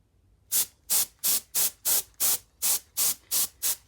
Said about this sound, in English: So I push the button, the canned air, until it stops moving.